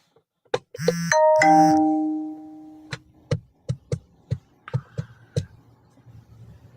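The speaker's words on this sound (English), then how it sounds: "every time that bell goes off" A bell alert chimes on a live stream: a bright ding-dong with a long ringing decay, then a run of sharp, evenly spaced knocks or taps, close and clear with no talk.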